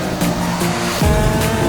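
A Kawasaki KX65 minibike revs hard into a corner at a racing track, its engine whining high and near, pitch stepping between gears and then dropping sharply as it banks over.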